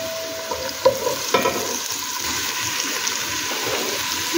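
Onion and garlic paste frying in a pan for chicken bukhari, a continuous close sizzle with a couple of sharp clinks near the start, steady throughout with no voices.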